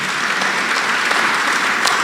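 A church congregation at a Kikuyu service applauds, steady dense clapping from many hands filling the room, loud and continuous throughout.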